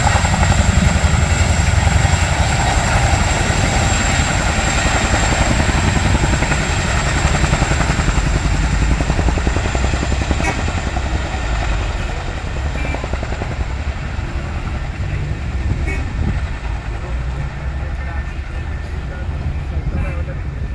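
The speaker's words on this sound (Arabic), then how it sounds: "الطياره الثانيه هتنزل اهي، الطياره الثانيه هتنزل اهي" Military aircraft landing over the city of 6th of October in Egypt, a loud continuous rotor-and-engine roar that stays close and steady for the whole stretch, with people talking in the background.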